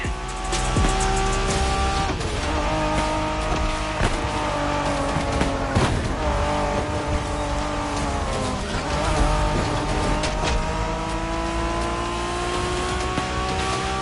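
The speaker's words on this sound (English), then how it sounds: "We're going for some proper Japanese street racing" Cars in a Japanese street race inside a video game roar loudly and continuously, engines revving and shifting with repeated tire squeals and skids, close and dense throughout, with no talking.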